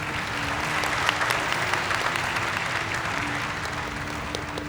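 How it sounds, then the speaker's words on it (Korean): Steady, dense applause from a conference audience at a robotics forum, sustained and even for several seconds with no voices on top. "큰 박수 부탁드립니다"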